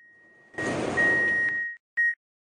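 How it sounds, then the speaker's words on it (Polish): The doors of a Warsaw metro train open at a station, a beep tone followed by a rushing, hissing slide of the doors, then a short closing chime. "Drzwi otwierają się z lewej strony."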